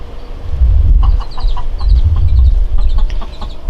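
A mother hen clucks softly and steadily with her baby chicks gathered beneath her, low rhythmic clucks close by with faint high peeping mixed in.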